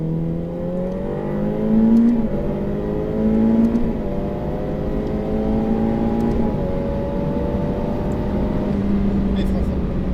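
A Ferrari F8 Tributo on its first track outing at Circuit de Haute Saintonge accelerates hard through the gears, its loud rising engine note dropping briefly at each shift, with an instructor talking over it.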